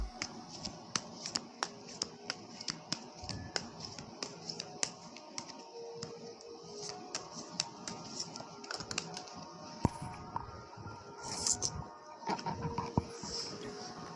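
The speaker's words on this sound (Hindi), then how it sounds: "I am shuffling cards" Tarot cards being shuffled make a quiet, continuous run of sharp clicks, taps and soft riffles in an irregular rhythm, close by, with no clear talking.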